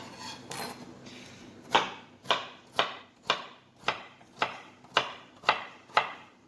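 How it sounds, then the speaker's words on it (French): A knife chops vegetables into a fine brunoise on a cutting board, about ten evenly spaced, crisp knocks close by, with no talking. "Une fois que les légumes sont coupés en brunoise, carottes, céleri, pommes de terre, ici les petites échalotes"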